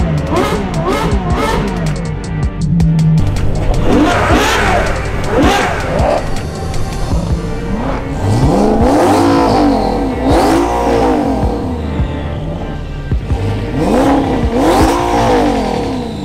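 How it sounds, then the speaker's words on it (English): Supercars at the Ace of Spades rally rev and accelerate one after another, engine pitch sweeping up and down in repeated loud, close passes and blips, with crowd noise in the background. "It's loud, it's rowdy. We got a ton of supercars out here."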